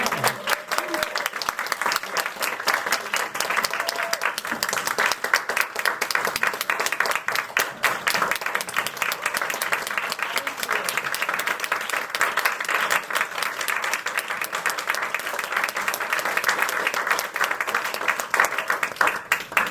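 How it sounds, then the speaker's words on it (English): Sustained applause from an audience at a music institute parent talk, a steady dense wash of many hands clapping continuously at even loudness throughout. "I'm gonna start applause"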